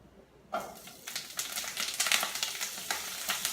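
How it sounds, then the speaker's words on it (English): Brussels sprouts drop into hot bacon grease for a hot honey jalapeño dish and burst into a sudden sizzle, followed by a steady crackling fry with small pops and spits close by. "I'm going to take the Brussels sprouts and throw them in just right on top of the bacon grease"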